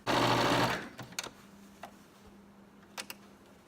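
A sewing machine runs in a short fast burst, then stops, followed by a few faint clicks and taps.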